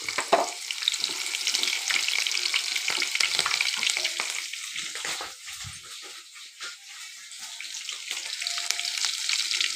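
Garlic and green chillies frying in hot oil for lemon rice, a close, busy sizzle with bursts of crackling and spatter that eases slightly midway before picking up again.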